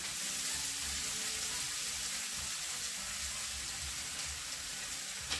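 Onion frying until caramelized in a pan: a steady, even sizzle with a bright hiss that holds at one level from start to finish, close and undisturbed by talk.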